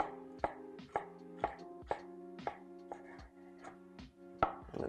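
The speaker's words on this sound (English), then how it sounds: "I could just go over all these now and chop both directions" Knife chops fresh pesto herbs on a cutting board in a steady run of about ten sharp, close taps, roughly two per second, with no talking.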